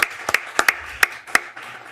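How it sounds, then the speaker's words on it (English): A small group at a city council study session gives staff a round of applause: a few sparse, separate claps, sharp and close, fading quickly with no voices. "can we give staff a round of applause"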